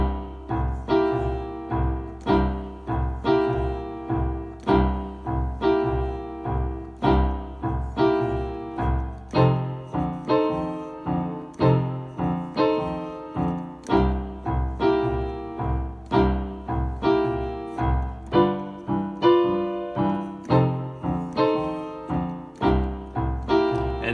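Piano plays a steady basic twelve-bar blues in C, left-hand pattern rolling under right-hand chords in an even, repeating rhythm, clear and close with no talking.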